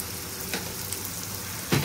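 Spice masala with turmeric and Agri Koli masala sizzles in hot oil for a spicy prawn curry, a close steady frying hiss with a couple of brief louder crackles near the end.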